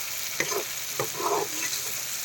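Pork and potatoes dry-frying together in a pan, a steady close sizzle broken by a few scraping stirs of the spatula, with no talk.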